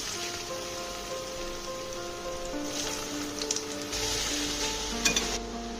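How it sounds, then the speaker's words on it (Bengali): Potatoes fry in hot oil for white aloo posto, giving a steady, close sizzle with soft crackle throughout, a few brief clinks of a utensil near the end, and no talking. "তেল গরম হয়ে গেছে, আমি আলুগুলো দিয়ে দিচ্ছি।"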